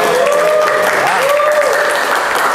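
Students in an automotive engineering classroom applaud the group judged best at discussion: a steady, dense wash of clapping for the whole stretch, with a faint voice-like tone drifting over it.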